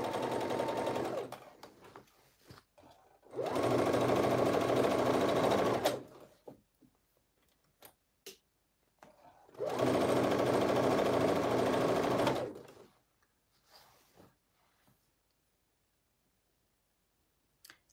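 Cover stitch sewing machine hemming a tee, running in two sustained bursts of fast, steady whirring stitches, with clicks and handling sounds between the runs and no talking.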